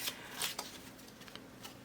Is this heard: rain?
no